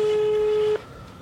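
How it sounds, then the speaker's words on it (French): A telephone ringback tone during an outgoing call, one steady near tone held for under a second before cutting off into quiet room noise. "je vais passer un petit coup de fil à Marilou"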